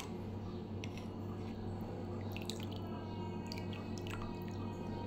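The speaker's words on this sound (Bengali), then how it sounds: "এবার আমি ঠান্ডা জল থেকে মটরশুঁটিগুলোকে তুলে নেব।" Peas being lifted by hand out of a bowl of cold water give faint, scattered drips and small splashes over a soft steady hiss, quiet and close.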